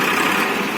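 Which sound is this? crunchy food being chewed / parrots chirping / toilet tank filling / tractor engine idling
tractor engine idling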